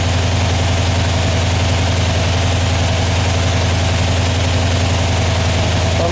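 A 1976 Corvette restomod engine idling with ignition timing being adjusted, a loud continuous low rumble with an even, steady pulse, close up and with no talk.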